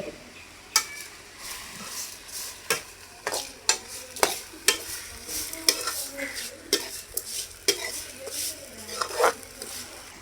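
Mint chutney ingredients sizzle softly in oil in a pan while a spoon scrapes and taps the pan in irregular sharp clicks about once a second.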